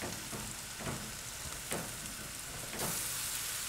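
Bread and sage dressing crackles and sizzles in a pan with plenty of butter, a steady close frying hiss broken by a few brief scrapes as it is stirred.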